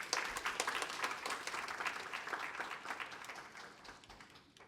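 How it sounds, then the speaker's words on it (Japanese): An audience applauds at the close of a conference session at the Osaka-Kansai Expo, a moderately loud burst of many hands that slowly tapers off over several seconds. "今一度盛大な拍手をお願いいたします。"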